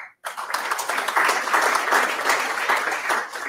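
Applause at a Polish-Ukrainian scientific conference bursts in suddenly after a brief silence and holds as a full, even roar of many hands clapping, steady and fairly loud for several seconds.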